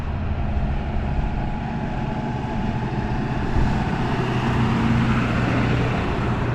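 Road traffic on a street in downtown Berthoud, Colorado, a steady rumble of passing vehicles with a low engine drone that swells slightly midway, heard close and with no talk.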